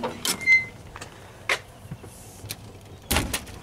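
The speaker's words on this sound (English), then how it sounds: "I'm going to kick the shifter in neutral." A Jeep Wrangler YJ's 5-speed shifter is knocked into neutral, giving a few short, sharp mechanical clunks and clicks spread across a few seconds, close by, with a quiet background and no talking.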